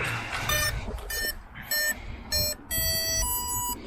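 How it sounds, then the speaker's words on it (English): Several short electronic beeps from an RC plane's electronic speed controller at startup on a 4S battery, clear harmonic tones with steady pitch, the last longer and lower, over quiet background hum. "Alright, so 4 beeps"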